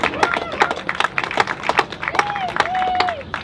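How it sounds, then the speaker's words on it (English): Applause for Steve Berg, the organizer, at a Gilbert schools community event, a lively run of claps from a crowd, with voices and whoops cutting through near the end. "let's give him a nice big round of applause for organizing."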